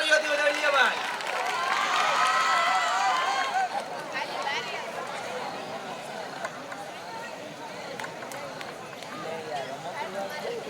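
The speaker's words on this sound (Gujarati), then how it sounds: "જોરદાર તાળીઓથી વધાવી લઈએ ભાઈ" An audience claps for top Class 10 and 12 students at a school honors ceremony. A steady wash of clapping and crowd murmur rises under a voice at the start and continues alone, gradually thinning.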